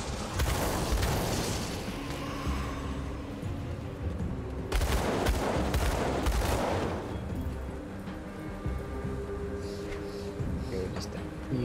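Dual pistol gunfire from a solo Purifier in the action RPG Grim Dawn: loud bursts of rapid shots in two clusters, with constant in-game ambience and effects running underneath.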